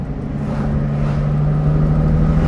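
Aluminium-bodied 1965 Lamborghini 350 GT with a V12 being driven, a steady, loud low engine drone with a firm humming tone that builds slightly over a couple of seconds.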